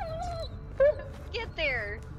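Bullet, a dog in the video game Blair Witch, whimpers and yips in several short, high, wavering cries, fairly close, with a faint low rumble underneath.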